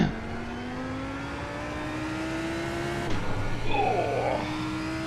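GT3 race car on an out-lap at Daytona road course in iRacing, engine droning steadily with rising pitch, then easing off as the driver lifts the throttle, with a brief crackle and continued lower hum.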